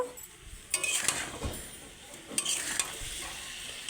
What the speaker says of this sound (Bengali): আবার একটু ভালো করে কষে নেব